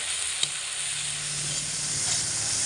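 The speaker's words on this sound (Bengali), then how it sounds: "এবার দিয়ে দেব পরিমাণ মতো হলুদ গুঁড়ো এবারে সব কিছু একসঙ্গে ভালো করে মিডিয়াম আঁচে রেখে কষিয়ে নেব" Malabar spinach, taro flower and potato with turmeric sautéing in a pan over a medium flame: a steady, close, continuous sizzle with a brief utensil clink near the start and no talk.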